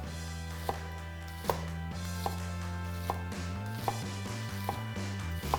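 A knife slicing through an onion on a cutting board, about seven crisp, evenly spaced cuts over soft background music, close and clear.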